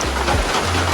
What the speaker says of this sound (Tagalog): kahit na umuulan ay nagbablog tayo